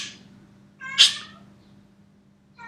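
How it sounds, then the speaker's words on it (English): A cat meows once, loud and close, in a short harmonic cry, with a faint quieter call at the start and a soft low hum underneath. "This annoying cat."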